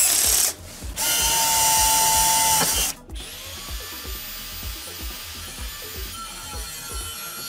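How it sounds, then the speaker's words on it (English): An electric drill bores holes into the case of a DIY MPPT solar charge controller, running in two loud, steady bursts, then a quieter, lighter whirring spin, close by. "And here is a lot of work. Let me try this drill."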